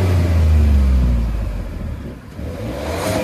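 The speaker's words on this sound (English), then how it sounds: "Here's a little bit of revving action." A 2024 Ford F-150 with the 3.5 EcoBoost engine revs up, a deep loud surge that builds then eases back toward idle, close and alone.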